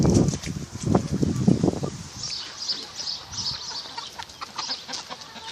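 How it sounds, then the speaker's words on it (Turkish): Chickens cluck and squawk nearby in a short flurry, then settle into quieter rustling with faint high chirps in the background. "Lan tavuklar geliyor, tavuklar geldi."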